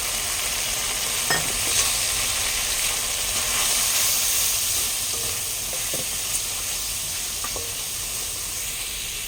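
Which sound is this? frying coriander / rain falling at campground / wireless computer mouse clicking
frying coriander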